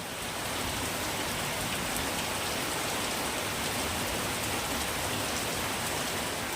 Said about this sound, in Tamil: கிளம்புற நேரத்தில் பார்த்தீங்கன்னா மழை வந்துருச்சு கரெக்டாக.